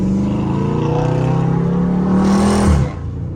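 Dodge Scat Pack in sport mode with traction control, engine droning steadily under load, rising slightly before a sharp shift-like dip near the end; loud, close, no talking.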